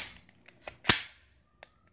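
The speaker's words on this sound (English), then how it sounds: "Bang the magazine and then cock." A pistol magazine slapped home and the slide racked to clear a dead round: a few light metallic clicks, one sharp loud snap, then a final short click, close and without talk.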